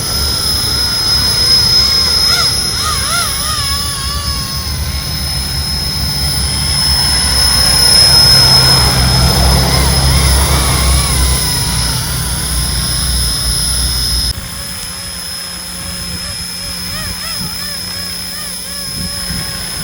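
A large size 500 radio-controlled helicopter, its tail converted to a brushless motor and running on a 6-cell battery, whines loudly and steadily in flight, with the pitch dropping slightly near the end.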